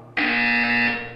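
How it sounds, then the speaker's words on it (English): A buzzer in the video game Portal 2 switches on abruptly and holds a steady, loud electronic tone for about a second before fading away, with nothing else sounding. "When you hear the buzzer, stare at the art."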